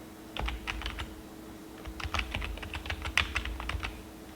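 Quick bursts of clicky key presses on a real computer keyboard during setup of a new custom CyberPower gaming PC, in two uneven runs separated by a pause, close and crisp over a faint steady hum.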